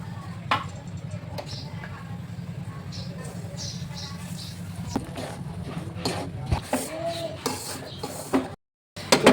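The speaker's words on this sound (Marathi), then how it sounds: "रवा चांगला खरपूस भाजायचा आहे." Semolina roasting in ghee in a pan on medium heat, stirred with a utensil: soft scraping and light clinks against the pan, intermittent and close, beneath a steady background hum with someone speaking over it.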